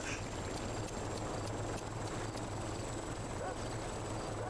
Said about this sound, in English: Still hear that chopper about somewhere.